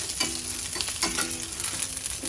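Salmon fries in hot oil while being basted, a close, continuous sizzle with soft scraping stirs and crackles throughout.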